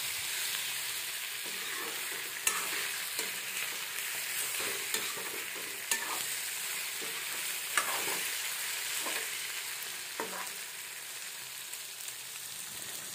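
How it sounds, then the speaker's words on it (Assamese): Meat stir-fried over a high flame gives a loud, continuous sizzle with sharp spatula scrapes and clacks against the pan at irregular moments, heard close and with no talking. "মাংসখিনি দি পেলাই ভালদৰে লৰাই থাকিম"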